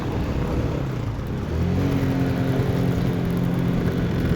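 A car engine hums, then revs up and pulls away as the vehicle accelerates, with a rising whine over steady road rumble; the sound is fairly close and continuous, with no talking.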